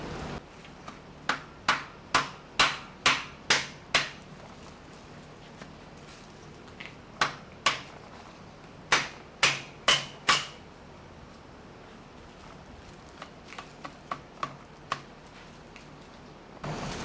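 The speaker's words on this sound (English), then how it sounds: "keep the grease from clumping up on your hammer and then slinging everywhere," Sharp metallic hammer strikes seating a Mammoth Rzeppa CV joint on a Jeep Wrangler JK, in quick bursts of five or six separated by pauses, then a few lighter taps, over a quiet background.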